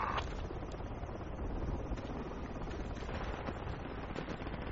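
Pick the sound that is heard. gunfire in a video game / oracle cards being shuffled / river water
gunfire in a video game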